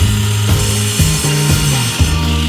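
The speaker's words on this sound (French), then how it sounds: "On coupe." Wood being hand-sawn during a van conversion, with steady back-and-forth strokes at a regular rhythm, loud and close, and no talking.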